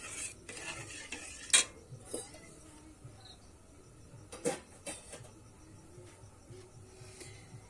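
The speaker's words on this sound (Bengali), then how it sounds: "জলটা দিয়ে কিন্তু আমি ভালো করে মিশিয়ে নিয়েছি" Dough for carrot chushi pitha being mixed with water in a bowl, a steady run of soft stirring and scraping with a few sharp utensil clinks against the bowl, fairly close and not loud, with no talk.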